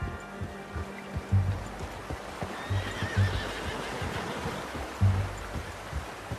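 Horse in the game Red Dead Redemption 2 whinnying over steady clip-clopping hooves and ambient outdoor wash, with loud snorts and hoof thumps recurring.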